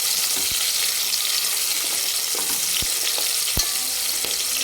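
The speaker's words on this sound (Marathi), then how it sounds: "छान हलकासा सोनेरी कलरवर आपण याला तळून घेणार आहे" Sliced onion frying in oil until golden, a loud steady sizzle close up with a few soft stirring knocks.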